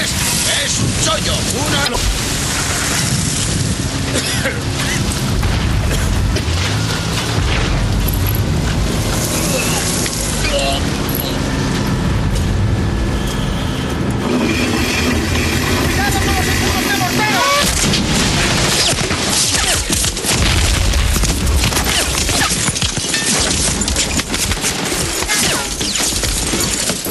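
Battle scene from the Saving Private Ryan beach landing, with dense continuous gunfire, machine-gun bursts and explosions crashing together loudly for the whole stretch, plus occasional shouting voices in the chaos.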